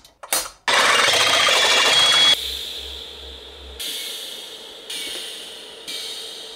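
A power drill whirs loudly in a burst while work is done on a manifold, then shorter bursts of motor whine follow, separated by brief pauses.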